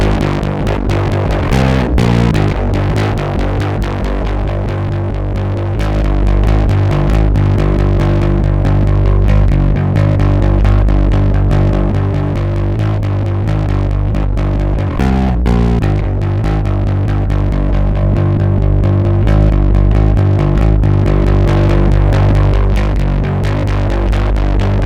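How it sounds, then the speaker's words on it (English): Distortion from the Triton Audio D2O preamp plugin applied to music, a loud, continuous gritty, edgy saturated tone running steadily throughout with no voices. "This distortion sound is ideal to blend in with the mixed dial to get a nice edge."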